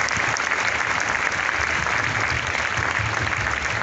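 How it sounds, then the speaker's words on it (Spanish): Steady, dense applause from an audience at a religious festival celebration in Tequixtepec, Oaxaca, greeting Daniel Santander; continuous clapping fills the whole stretch at even loudness, with a faint crowd murmur beneath. "Un fuerte aplauso también para el licenciado Daniel Santander."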